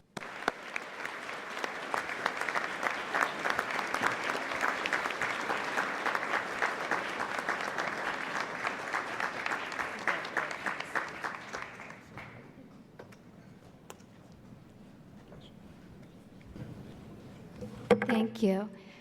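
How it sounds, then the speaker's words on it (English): An audience applauds two medal recipients at an awards ceremony, sustained clapping from a large crowd that stays full for about twelve seconds, then thins out and fades, with a voice beginning to speak near the end. "Fiona and Stanley Druckenmiller, we wholeheartedly applaud you both"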